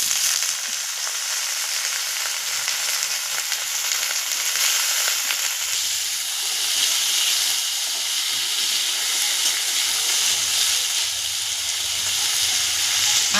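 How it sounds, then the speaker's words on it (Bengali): Potatoes frying with half-browned onions in a pan give a dense, steady hiss and sizzle that stays close and fairly loud throughout, with faint stirring knocks and no speech. "এইবারে আলুগুলো দিয়ে ভাজবো।"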